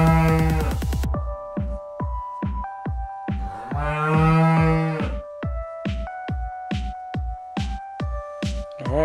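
A toy cow gives repeated mechanical moos, long electronic lowing calls broken up by a quick, regular throbbing pulse, loud and close with no talking.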